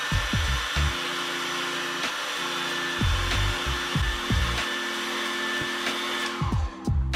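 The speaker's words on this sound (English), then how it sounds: "Now take any hairdryer and heat the display surface for 1 or 2 minutes." A hairdryer blows steadily up close on an iPhone 7 Plus display, with a constant whirring hum and occasional small bumps and shifts in tone.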